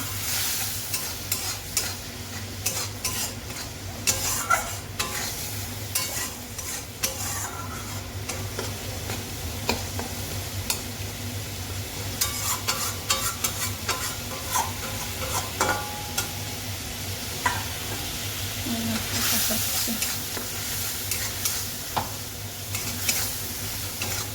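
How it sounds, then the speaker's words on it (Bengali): Turmeric, chili and cumin powder frying in hot oil for an egg curry, a steady sizzle under repeated scraping and stirring strokes of a spatula against the pan, continuous and close with no talking. "হলুদ দিলাম, লঙ্কা দেবো, জিরার গুঁড়ো দিয়েছি। ভালো করে কষিয়ে নেব।"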